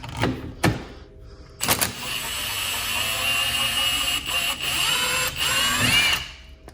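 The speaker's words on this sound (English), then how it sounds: "once you've got your spring compressor on, grab your impact" Impact wrench spinning off the strut top hat nut on a Honda Del Sol during a spring swap, a few short sharp bursts followed by a long steady whirring run, close and loud with no talking.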